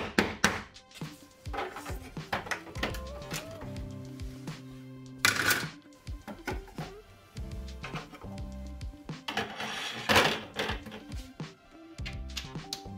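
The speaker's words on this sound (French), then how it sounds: "Par moment, faut quand même utiliser un marteau parce que ça s'enfonce pas très facilement." Hammer tapping 3D-printed parts into place where they fit tightly: a series of close, sharp knocks at irregular intervals, mixed with handling clatter and rattling plastic.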